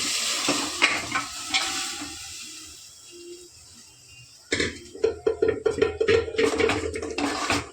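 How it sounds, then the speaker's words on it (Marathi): Pressure-cooked chicken is dropped into hot oil in a pan, setting off a sudden loud sizzle and crackle after a quieter stretch of low cooking noise and clatter. "आता आपण जे कुकरला शिट्टी लावलं होतं चिकन ते आपण टाकून घेऊया त्याच्यामध्ये"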